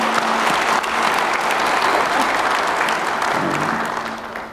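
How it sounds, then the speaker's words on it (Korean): An indoor audience gives sustained applause of encouragement for Daegu mayor Choo Kyung-ho at a gathering of regional leaders, a dense wash of clapping that fades slightly at the end. "우리 추경호 대구광역시장께서도 함께 해주셨는데 우리 격려의 박수 한번 부탁드립니다."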